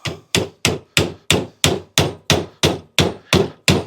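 Twelve sharp metallic hammer blows strike in an even, rapid rhythm on a seized electric bike part held fast with red Loctite, each hit loud and close, with no talking.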